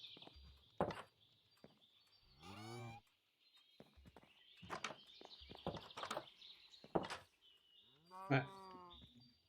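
A cow moos in a farming video game, several drawn-out lowing calls spaced across the scene among light footstep sounds and game effects, fairly close and clear.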